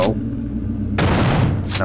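Gunfire in the video game System Shock 2: two loud, close, booming shots with a sharp crack at each onset, one at the start and one about a second later with a longer rumbling tail.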